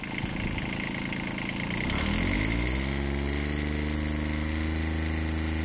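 A small 719 cc Kubota diesel engine with a VNT turbo runs steadily with no load, a loud continuous mechanical drone that shifts pitch slightly partway through and then settles into a steady hum.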